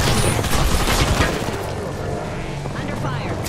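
Rapid, loud gunfire in the Apex Legends battle royale game, a dense volley of overlapping shots and bursts up close that eases into scattered fire toward the end.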